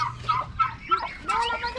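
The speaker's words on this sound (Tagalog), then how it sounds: "Yan, mga manok at saka pabo yan, magkahalo." Turkeys gobble and chickens cluck together in a mixed flock, several short calls overlapping at close range with a low background hum.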